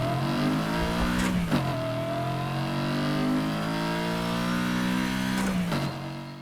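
BMW M4 in Need for Speed Heat with a swapped engine and straight-cut gears, revving steadily under load with a whining gear tone rising through a couple of shifts, loud and close throughout.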